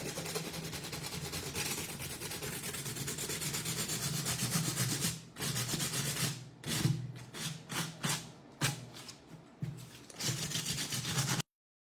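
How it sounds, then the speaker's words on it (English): Rough, scratchy rubbing of sandpaper against a painted plastic bottle, continuous at first, then in short uneven strokes with brief pauses, close and fairly quiet. "Sorry for the noise, but I just want to show how the sanding actually reveals some of the detail."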